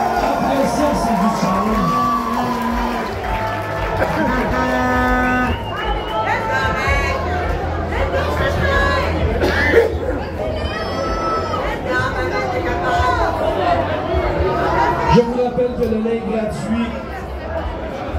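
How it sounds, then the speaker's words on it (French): A festival crowd at the Brasiervil 2025 finale claps and cheers loudly and continuously, with whoops rising over a dense babble of chatter and voices close by. "On applaudit, c'est le final là."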